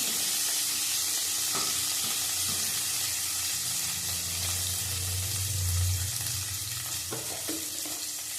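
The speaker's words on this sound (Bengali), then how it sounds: "ভালো করে ভাজা হয়ে গেছে।" Salted food fries in a pan with a continuous close sizzle, stirred now and then with light scraping and clinks of a spoon, and a brief bubbling swell midway.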